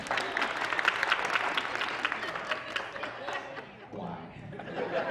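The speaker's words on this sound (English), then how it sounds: "Everybody clap your hands." A comedy club crowd claps steadily at a stand-up comedy show, dense applause mixed with chuckles and chatter, fading briefly before picking up again.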